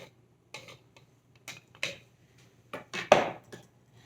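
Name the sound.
spoon scraping food out of a blender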